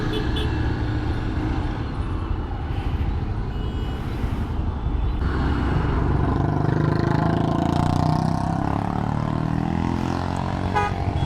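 Touring motorcycle being ridden on a road, a continuous engine drone and wind rush with traffic noise and horns around it, no talk.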